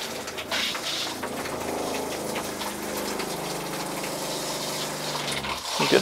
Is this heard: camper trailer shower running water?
yes